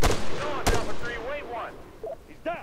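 Gunfire in the military shooter ARMA 3 crackles in a few sharp bursts, one very loud crack standing out, while a player talks excitedly over the shots.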